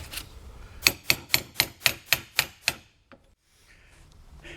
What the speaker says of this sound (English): they're back to hammering again